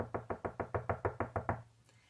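A hand knocks on a door about ten times in a quick, even rhythm, each rap sharp and close. The knocks stop abruptly, leaving near silence with no voices.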